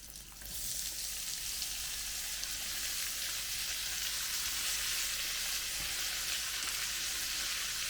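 A kilogram of chopped onion sizzles and fries steadily in a large pan with browned ham, a continuous close hiss with no talk.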